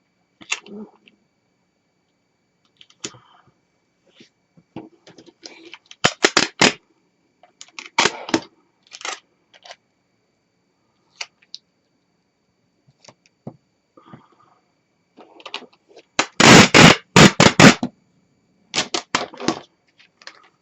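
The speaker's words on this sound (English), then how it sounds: "I am going to tape them together." Tape pulled from a roll and pressed down to join two foam sheets, bursts of sharp ripping screeches, one long pull, separated by quiet pauses and soft handling noises.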